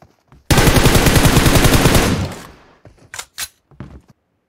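Thompson submachine gun in the PUBG Mobile video game fires a loud, sustained automatic burst of about two seconds, followed by a few shorter sharp shots and impacts.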